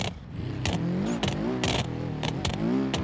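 A car engine in the video game BeamNG.drive revs and whines through rising and falling gear changes, with sharp bursts of noise in between, loud and close.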